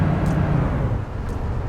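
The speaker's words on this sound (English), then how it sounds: "That train going overhead up there," A train rumbles overhead in the bus-driving game Bus Bound, a steady low roar that holds for the full stretch and fades slightly toward the end.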